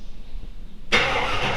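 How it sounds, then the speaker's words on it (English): A 1957 Chevy 210 restomod with a V8 and TH400 transmission cold-starts on a cool morning, silence giving way to a sudden loud catch and a steady, rumbling idle close by. "Alright, cold start."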